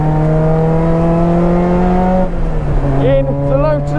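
A Lotus Elise Cup 260 engine with a new ECU and exhaust roars at high revs close by on a race track, its pitch holding steady then dropping and shifting as it changes gear, loud and continuous.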